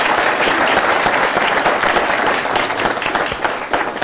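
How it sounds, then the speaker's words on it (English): Steady, vigorous applause fills the room at an education-and-innovation townhall, a continuous wash of many hands clapping that holds strong before easing slightly near the end, with no talking over it. "a round of applause here for you"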